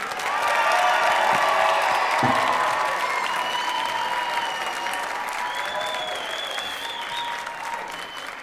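A big round of applause for graduates at a high school graduation ceremony, loud dense clapping from a large crowd with faint cheers and whistles mixed in, tapering slightly toward the end.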